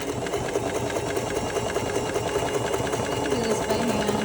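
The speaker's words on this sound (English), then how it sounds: "I think it's faster with the sewing machine." A sewing machine stitches fabric for a homemade teddy bear hat, running in one steady, close, continuous whir with a fast mechanical rhythm throughout.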